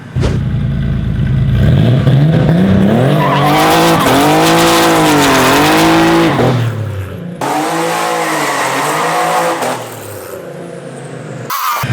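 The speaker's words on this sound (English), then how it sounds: "one time Brian brings his Porsche here and is actually down to do consecutive burnouts" Porsche 965 Turbo RWB doing burnouts: a loud engine revs and holds high while rear tires squeal and skid continuously, dipping briefly before a second sustained burnout roars and shrieks, close and without talk.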